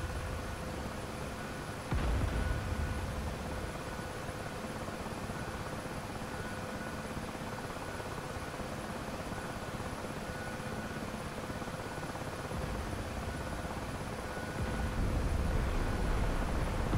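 A helicopter in the DCS World flight simulator, during a special forces transport mission, drones with a steady rotor and turbine roar, dense and continuous throughout, with brief louder swells near the start and end.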